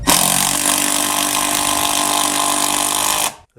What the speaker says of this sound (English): The impact, of course, is just going to hammer it in there.